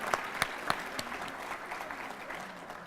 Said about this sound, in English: Let's give another round of applause for our leader, General Pam Bondi